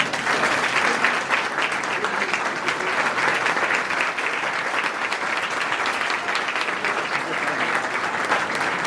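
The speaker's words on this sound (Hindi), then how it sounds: "कृपया आप लोग ताली बजाएं" An audience at a seminar claps steadily and densely for several seconds, a continuous wash of applause without any pause.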